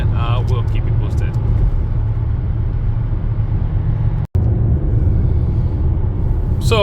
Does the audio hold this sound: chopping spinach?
no